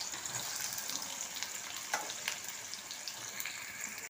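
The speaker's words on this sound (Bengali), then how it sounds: "আগে আমি পেঁয়াজগুলোকে ভেজে নেব।" Four large onions fry in hot oil for chicken korma, giving a steady, continuous sizzle with a fine crackling hiss and a few sharper pops. The sound is fairly quiet and close, with no voices.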